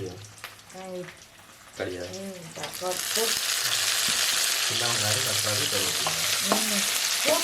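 Fish frying on a dosa griddle, a loud, close, continuous sizzle that swells after the first few seconds while a person talks over it throughout.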